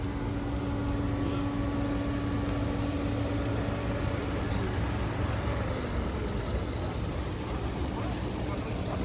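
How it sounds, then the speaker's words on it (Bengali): A 2017 Toyota Yaris with an automatic transmission runs smoothly with its engine idling, giving a steady low hum with an even tone that continues unbroken and fairly close throughout. "সাউন্ডটা স্মুথ সাউন্ড, অটোমেটিক গাড়ি 2017 মডেলের"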